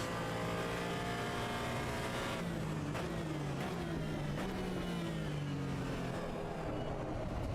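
Race car engine in the Assetto Corsa EVO driving game, a loud continuous whine climbing in pitch through repeated gear changes, each shift marked by a brief dip before revving up again.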